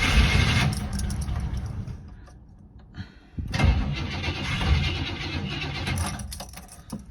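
A 1969 Buick Skylark engine, off the road for 36 years, cranks and fires after a shot of gas: a loud starter grind, a pause with a brief knock, then the motor catching into a rough, close running roar.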